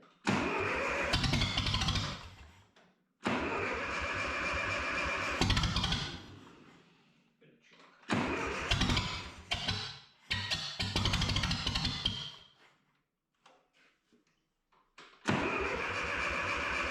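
A half-built Ferguson tractor engine, outdoors, cranks and catches in several separate attempts, each a loud burst of rough churning turnover with gaps of silence between them, then fires up again at the end.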